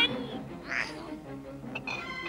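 An animated cat in a German-dubbed Smurfs cartoon, chasing a Smurf for Gargamel, lets out a couple of short, clear meows and yowls, close and fairly loud over a light background score.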